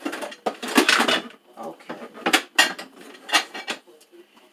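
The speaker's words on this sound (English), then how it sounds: "I'm just gonna try to put the juicer on this side and put the blender whoa on the other side." A juicer and a blender are shifted around a kitchen counter, producing a series of close, loud clunks and rattles in irregular bursts, with a brief word spoken.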